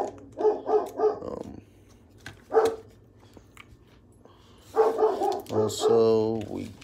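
A dog barks in several bursts near the start, once more mid-clip and again toward the end, heard indoors alongside faint talking.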